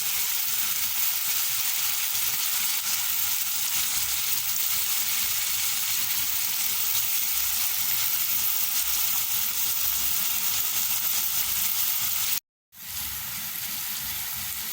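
A Trinidadian potato and chickpea curry mixture sautés in a pan, a loud, steady, hissing sizzle that continues unbroken, cutting out briefly near the end before resuming slightly quieter.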